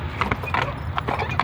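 Lipizzaner horse's hooves clip-clopping in a steady, moderately close series of sharp knocks, with brief faint noises in between and no clear talk.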